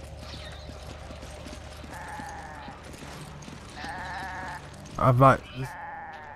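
A goat in Resident Evil 5 bleats a few times in short wavering calls between stretches of game ambience and footsteps. Someone talks over it, and one loud burst near the end stands out.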